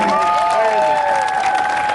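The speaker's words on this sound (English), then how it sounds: "how about one more big round of applause for all of our inductees tonight" Steady crowd applause with some cheering for inductees at a 2019 Hall of Fame ceremony, continuing for the full two seconds over a sustained musical tone.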